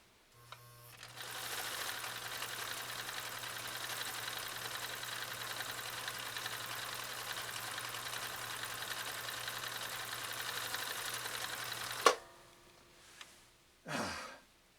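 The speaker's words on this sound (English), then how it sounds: "So here we go, our final stitch on Cam B, a very cool Scott stitch." A Husqvarna Viking 2000 sewing machine runs steadily for about eleven seconds while sewing a stitch, a constant whirring hum at low level, then stops with a small click followed by brief faint handling noises.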